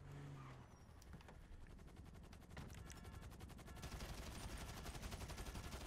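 Rapid video game gunfire rattles on almost continuously, steady fast shots that thicken and grow louder in the second half, with no talking.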